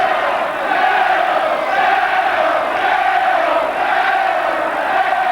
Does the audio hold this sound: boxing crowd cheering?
yes